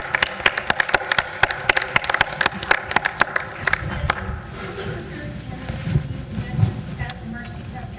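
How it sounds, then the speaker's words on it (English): Audience applause for a panel at a political event, sharp dense claps for about four seconds that give way to crowd murmur and talk. "Let's have a round of applause for the panel."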